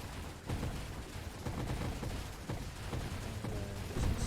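Rapid bullet fire from a ship in the space shooter Nova Drift, a dense, continuous crackle of small shots with sharper bursts every second or so, steady and close throughout.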